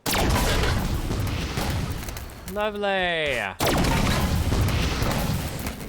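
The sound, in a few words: multiple explosions from a weapon in Halo 5 video game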